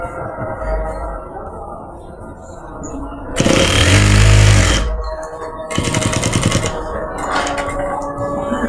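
Sewing machine stitching a shalwar pocket, running in two loud, close bursts of rapid mechanical whirring separated by a short pause, with quieter handling noise around them.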